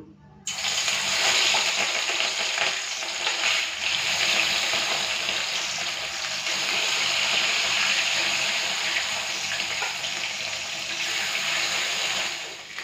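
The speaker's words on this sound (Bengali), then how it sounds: "তেলটা ভালো করে গরম হয়ে গেছে, মাছগুলো ভেজে নেব।" Fish pieces, catla for a yogurt curry, fry in well-heated oil, giving a continuous, dense, close sizzle that holds steady throughout with only slight swells.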